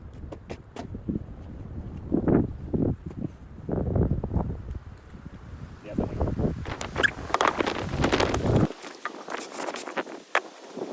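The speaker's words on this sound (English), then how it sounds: "It's super windy out here." Strong wind gusts buffet the microphone outdoors at an off-grid cabin building site, producing irregular bursts of rumbling blasts and rustle that come and go over about nine seconds before dropping away.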